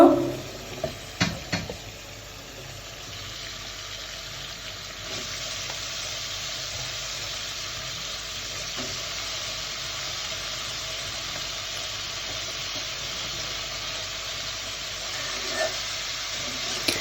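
Washed pepoli greens hit hot spiced oil in a pan, giving a steady broad sizzle and hiss that swells after a few seconds and holds, with a few clinks of stirring near the start.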